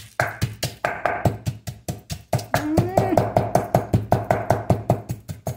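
A wooden pestle pounds Lao papaya salad in a mortar with steady, rhythmic thuds about three or four per second, close and loud, while a voice speaks over part of it.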